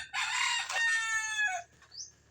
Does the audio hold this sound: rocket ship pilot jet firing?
no